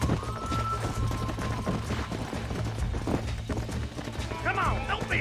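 Horse hooves clip-clopping in Red Dead Redemption 2, a steady galloping patter under other game noise and scattered gunfire, with a voice and a whinny-like cry near the end.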